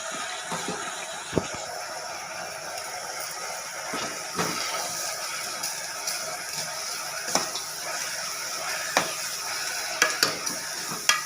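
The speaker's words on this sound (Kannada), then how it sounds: "ಅಕ್ಕಿನೂ ಚೆನ್ನಾಗಿ ಫ್ರೈ ಆಗಬೇಕು" Rice for pulao fries in a pan with a constant close sizzle, broken by scattered scraping knocks as it is stirred, and no talk over it.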